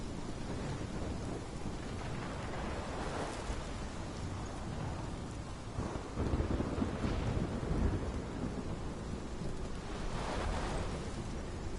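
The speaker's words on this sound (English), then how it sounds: "This is my storm." Thunderstorm in the video game Life Is Strange: steady heavy rain with deep rolling thunder rumbles that swell around the middle and again near the end, continuous and fairly loud, with no voices.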